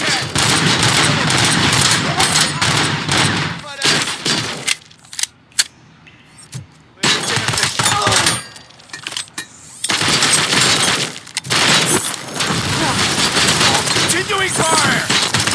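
Dense bursts of automatic gunfire and rapid single shots from the RoboCop: Rogue City video game, loud and sustained, dropping out briefly to a quieter gap before the firefight resumes.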